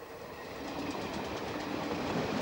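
A suburban passenger train bound for Shoeburyness rumbles steadily past close by, with a rhythmic clatter of wheels over the rails and no voices.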